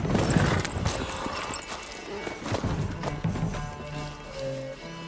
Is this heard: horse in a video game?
yes